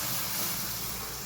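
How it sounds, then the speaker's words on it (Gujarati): Hot vaghar tempering hisses as it is poured over chole cooked with ginger, garlic and tomato, a steady, close, broad sizzle that fades slightly toward the end, with no voices. "વઘાર એડ કરી દઈએ"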